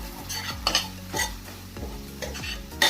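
A spatula stirs an egg frying with tomato and onion in a pan, scraping repeatedly in an irregular rhythm over a soft, steady sizzle, close and moderately loud, with no talking.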